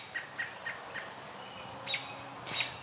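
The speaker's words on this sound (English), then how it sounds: "I absolutely love those birds." Wild birds call in a woodland, with a run of four short, evenly spaced chirps followed by two louder, sharper calls, all faint and somewhat distant against quiet outdoor ambience.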